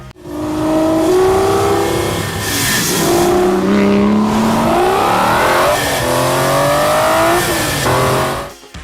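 An Aston Martin with a 5.9-liter V12 and Touchtronic 2 automatic transmission revs loudly in the Need for Speed racing game, its engine pitch climbing and falling in steady sweeps for several seconds without pause.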